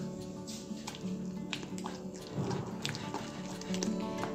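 Water is poured and stirred into gram-flour batter for boondi, with soft wet squelches, drips and spoon clinks in a quiet kitchen, no talking.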